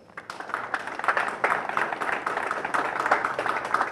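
A crowd at a Patriots For The People freedom ride gives the Delaware Valley 3%ers a round of applause: soft, distant clapping that starts thin and then holds as a dense, continuous patter.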